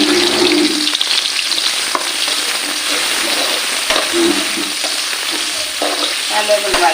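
Garlic and green chilies fry in coconut oil in a pan for a Kerala chicken curry, a loud, continuous, close sizzle and spatter with occasional stirring clinks and no voices.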